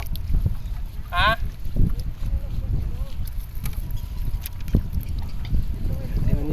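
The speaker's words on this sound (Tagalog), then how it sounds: "Amihan lang yung hangin na yan." Northeast monsoon (amihan) wind blows steadily over open water near a boat, making a continuous low rumbling buffet with a brief whistling tone early on.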